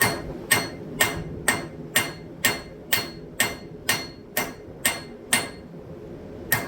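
Hammer blows forging a metal hummingbird, twelve sharp ringing strikes at an even, steady pace of about two per second, close and alone with a faint metallic ring between hits.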